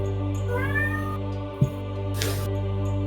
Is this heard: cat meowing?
yes